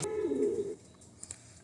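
Pigeons in a loft, one low throaty coo up close at the start, followed by a quieter pause and two faint brief high chirps.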